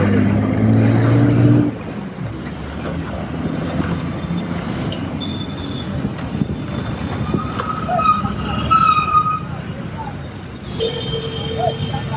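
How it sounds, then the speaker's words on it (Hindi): Night road traffic on a busy Kolkata street with taxis passing, a steady rumble of engines and tyres with occasional horns and vehicle hum, loud and continuous throughout, with a voice speaking over it. "रात को कितना ट्रैफिक होता है।"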